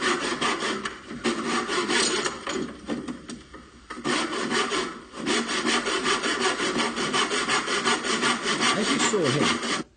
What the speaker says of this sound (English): These saws will cut accurate if you keep your technique correct.